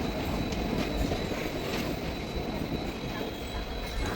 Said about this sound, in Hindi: अब हमारी ट्रेन का अराइवल हो रहा है तिरुपुवनम रेलवे स्टेशन पर।